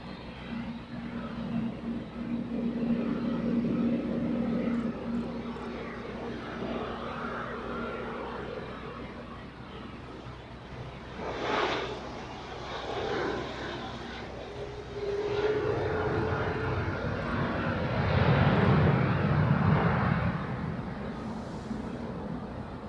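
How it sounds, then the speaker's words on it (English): An Asian Airlines airliner taxis at Zurich Airport toward departure, a low steady engine rumble and whine rising and falling at a distance, with a fuller roar near the end. "Here we have Asian Airlines off to Athens, crossing 28 for a departure on runway 32"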